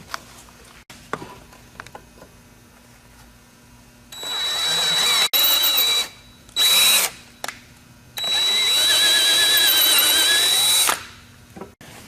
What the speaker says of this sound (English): now we're going to tap it with a drill